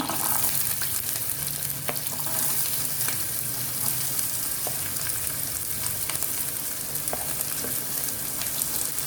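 Roughly chopped onions frying for misal pav, a constant close sizzle with occasional light taps of a spoon against the pan.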